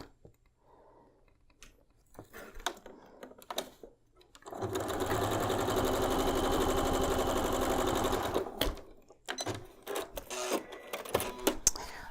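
A sewing machine stitches a quilt block's middle square, a steady rapid whir for about four seconds, framed by clicks and fabric handling before and after.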